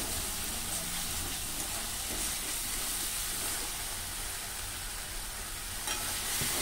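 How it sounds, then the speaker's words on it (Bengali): Spice masala fried in oil with a little water added, being stirred in a pan: a steady, dense sizzling hiss with faint scraping, close and continuous throughout, no talking. "তার জন্য আমাকে একটু হালকা হালকা জল দিয়ে এটাকে কষতে হবে।"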